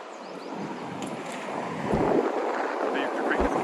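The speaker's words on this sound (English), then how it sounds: "That wind is quite brisk." Brisk outdoor wind buffets the microphone during a walk through a Regina neighborhood on a blustery day, a steady close rumble and rush that swells louder partway through.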